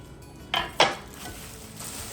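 Two quick metallic clinks as a Stoke Voltaics Nomad portable electric cooking pot and pan are handled, close and fairly sharp, with quiet room tone between and no talk.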